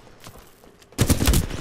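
Burst of rapid rifle fire from a Flatline in a capture-the-flag video game match, a loud dense volley that kicks in suddenly after a quieter stretch of faint game ambience.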